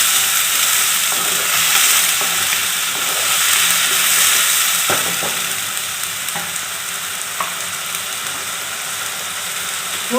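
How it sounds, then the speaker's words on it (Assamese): Sliced onions fry in hot oil for a fish curry, giving a loud, continuous close sizzle with occasional faint clinks and stirring sounds throughout. "এতিয়া মই এই পিচি লোৱা পিঁয়াজখিনি প্ৰথমতে ইয়াত দি ল'ম।"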